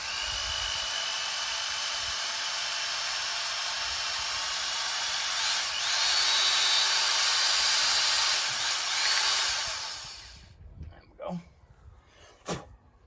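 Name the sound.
punching a 1.5 cm hole in a fermenter lid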